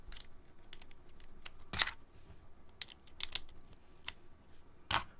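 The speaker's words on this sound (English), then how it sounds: "I'm just going to toss these keycaps back on." Keycaps, old GMK Dolch, are pressed back one by one onto a mechanical keyboard with JWK pewter switches on slightly heavier springs. Sharp, scattered plastic clicks and snaps come at irregular intervals over a quiet background.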